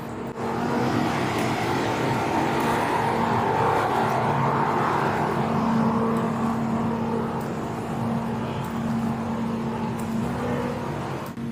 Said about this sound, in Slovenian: Vem, da je tukaj veliko avtomobilov